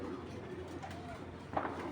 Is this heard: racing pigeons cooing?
yes